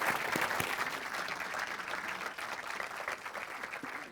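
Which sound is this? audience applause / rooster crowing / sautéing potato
audience applause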